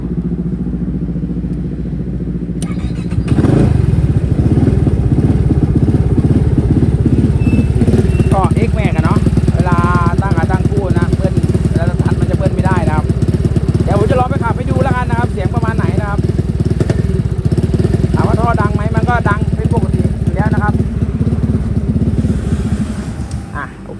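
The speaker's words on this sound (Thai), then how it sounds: "เดี๋ยวเราสตาร์ทเครื่องให้ดู" A Yamaha XMAX 300 scooter engine cranks and catches, then settles into a steady, loud, close idle with occasional revs and rattles.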